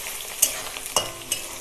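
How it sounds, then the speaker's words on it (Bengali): Chopped onion and garlic hiss in hot oil with cracked cardamom, a brief steady sizzle broken by three crisp spoon clicks against the pan. "এবার আমি পেঁয়াজ কুচি আর রসুন কুচিকে একসঙ্গে তেলে দিলাম"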